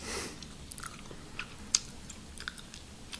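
Soft, close chewing of gum with small wet clicks and smacks scattered irregularly over a quiet background, no voice.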